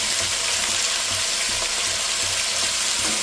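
Potatoes frying in oil in a pan for a Gujarati dry methi potato dish, giving a steady, close, loud sizzle throughout with no talk.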